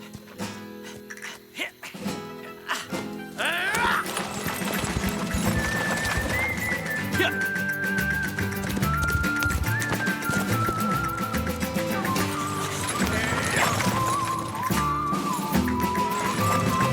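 A horse pulling a cart clip-clops steadily and whinnies over lively music, with voices speaking at the start.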